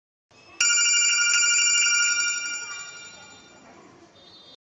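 A telephone bell rings loudly and steadily, a bright sustained trill that starts abruptly and then fades away over a few seconds, with no voices over it.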